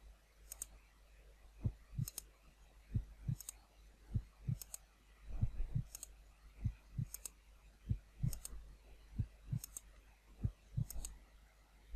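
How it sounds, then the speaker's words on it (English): A slow, weak heartbeat of about 50 beats per minute is heard while a pulse is taken in a Sherlock detective game. Soft, low double thumps come in an even rhythm, each with a faint click. "I need to concentrate and count the heartbeats."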